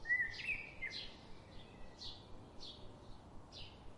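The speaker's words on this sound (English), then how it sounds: "they pay very close attention to the warning calls of the garden birds" Garden birds give short, sharp repeated calls at a steady pace, about one each half second, fairly faint over a soft outdoor hiss with no talk.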